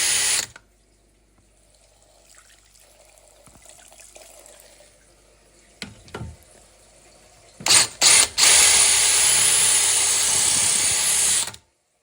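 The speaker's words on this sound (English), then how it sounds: "just running the basin tap and cooling off the drill bit" Water runs from a basin tap briefly, then quiet handling sounds, followed by a loud, steady drilling whine lasting several seconds as a drill bit bores into corroded metal toilet seat bolts.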